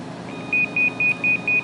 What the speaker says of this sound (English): now it's 5 minutes before the time that I've set. That's the second pre-alarm